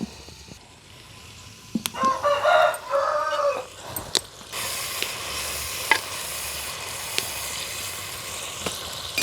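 Onions frying with salt in a pan, sizzling and crackling steadily up close, with a few sharp clicks of a utensil and brief whistling tones near the start, no talking.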